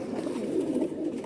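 Teddy pigeons coo in a short, soft, rolling burst, a low warbling call heard close by with no talk over it.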